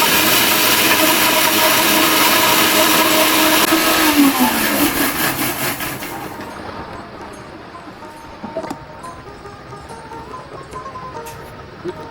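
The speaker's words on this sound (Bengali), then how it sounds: "ফার্স্টে কিন্তু আমি জিরাগুলো একটু ব্লেন্ডার করে নিব," An electric blender grinds cumin seeds for a beef curry spice paste: a loud, steady, high whirring roar for about six seconds, then it cuts off and leaves quieter kitchen background with a faint clink.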